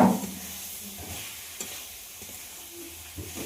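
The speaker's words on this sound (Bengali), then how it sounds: "এই মশলার সঙ্গে ফুলকপি আলু খুব ভালো করে কষিয়ে নিতে হবে" Fried cauliflower and potato pieces being sautéed with spices in a pan, a continuous close sizzle with soft stirring scrapes, no talking.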